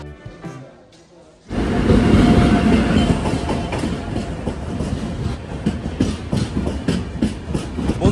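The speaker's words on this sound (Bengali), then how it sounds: "5962 কামরূপ এক্সপ্রেস।" The 5962 Kamrup Express rolls into a station on the Bhutan route: after a quiet start, a sudden loud rumble of wheels and carriages with rhythmic clickety-clack, close by and sustained.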